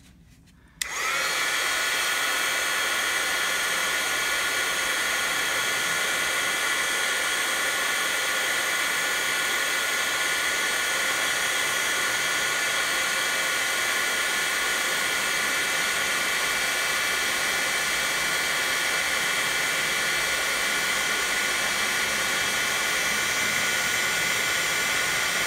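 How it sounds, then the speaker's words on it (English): Steady, loud roar of a heat gun melting embossing powder over a bottle, starting after a brief quiet moment and blowing continuously alone without pause. "Use your heat gun."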